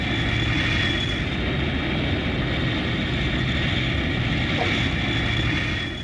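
Tupolev Tu-144 supersonic airliner touching down, a steady, loud broadband jet roar with a sustained high whine that holds without break from start to finish.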